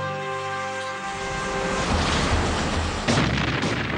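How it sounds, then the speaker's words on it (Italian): Cannon fire opening the naval battle of Lepanto in 1571, rendered as heavy booming blasts over a dense rumbling din, with a sharp loud report near the end and no voices. "E la battaglia iniziò al tuono dei cannoni."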